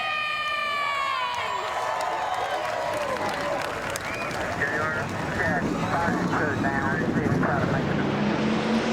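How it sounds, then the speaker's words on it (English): A field of 42 race car engines fires up at ISM Raceway in the NR2003 racing game, a rising roar of overlapping revving under crowd noise, with speech running through it. "42 engines come to life at the ISM Raceway in the Arizona desert"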